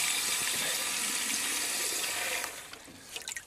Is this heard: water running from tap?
yes